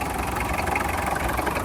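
A diesel Datsun engine idles nearby with a steady, even rumble and no breaks or changes in speed.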